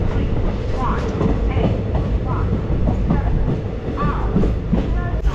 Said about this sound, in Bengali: ট্রেন কিন্তু এখনও অবধি খুব ভালোই চলছে।